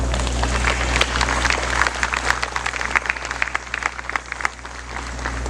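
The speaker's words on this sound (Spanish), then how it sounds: "un aplauso" Congregation applauding during a Spanish-language Christian church sermon, a dense, steady wash of many hands clapping that fills the space for several seconds, loud and close with no talk over it.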